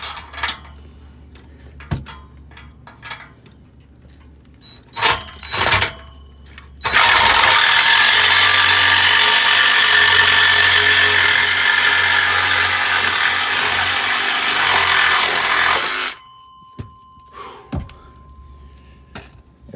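A power tool cuts through a car's exhaust pipe to free the muffler, a loud steady grinding roar running about nine seconds after scattered clanks and knocks, then stopping abruptly, with a few light taps afterward.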